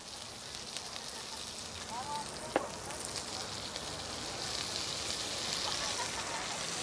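Sea beans fry in oil in a pan, giving a faint, steady crackling sizzle with one sharp click partway through and slight voice sounds in the background.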